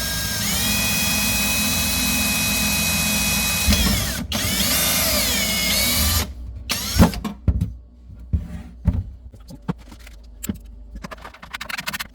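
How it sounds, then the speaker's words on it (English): A power drill whines steadily for several seconds drilling holes during a kitchen drawer installation, stops, then gives way to scattered clicks, knocks and rattles of handling tools nearby. "I'm going to drill some holes"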